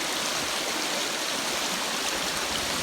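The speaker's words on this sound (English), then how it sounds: "there's quite a bit of water coming through the billabong" Steady broadband rush of water flowing through a billabong and a side creek outdoors, a continuous close wash of noise with no voices or breaks.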